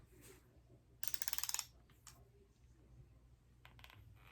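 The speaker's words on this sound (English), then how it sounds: "Now you're learning how to use a torque wrench." Torque wrench ratcheting while tightening an AR15 barrel, with a quick burst of close, crisp clicks followed by a few softer ratchet ticks in a quiet room.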